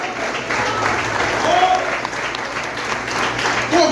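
A church congregation at a family worship service claps together in loud, sustained applause that fills the room, with a few voices calling out faintly beneath the clapping.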